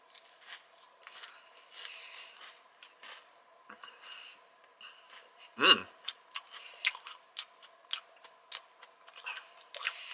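Someone bites into and chews a chocolate-coated, frosted Girl Scouts Thin Mints Pop-Tart, with a sharp close crunch at the first bite followed by a run of wet, rhythmic chewing clicks over a quiet background.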